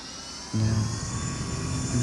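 A jet aircraft in the video game SimpleRockets 2, a twin lower-mounted-engine design, roars as its engines spool up abruptly and hold a steady loud drone with a high whine layered above.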